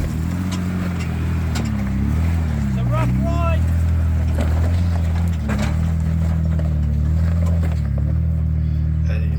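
A four-wheel drive vehicle climbing a rough track in the Flinders Ranges, its engine droning steadily close by with rising and falling revs as it crawls up, while someone talks throughout.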